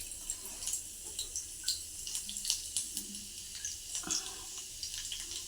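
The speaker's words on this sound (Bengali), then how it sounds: "এবারে এর ভেতরে দিয়ে দিচ্ছি রসুন কুচি।" Chopped garlic crackles in hot white oil in a wok while cooking Korean ramen, giving irregular bursts of sharp pops and sputters over a soft, steady sizzle.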